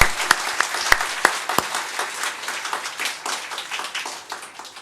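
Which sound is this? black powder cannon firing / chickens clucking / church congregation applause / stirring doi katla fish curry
church congregation applause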